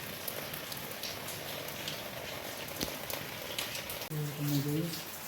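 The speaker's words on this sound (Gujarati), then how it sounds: "તો તમે જોઈ શકો છો પાછો વરસાદ ચાલુ થઈ ગયો છે" Rain pours down outside a shop as a steady, even hiss of drops on surfaces, with a brief lower rumble near the end.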